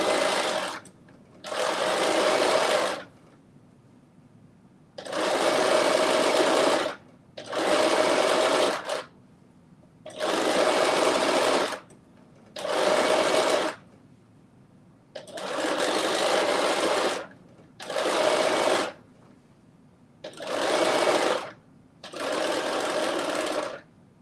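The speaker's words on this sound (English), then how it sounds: "So I'm just going to stitch the first half of this again" A sewing machine restitches the first half of an inner leg seam in about ten separate bursts of steady, loud running, each lasting one to two seconds with short pauses between, close by and with no talk over it.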